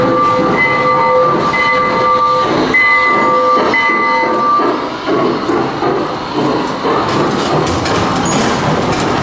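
A train rumbles past close by a parking garage at ICON Park in Orlando, loud and continuous, with a horn sounding in several short blasts over the roar.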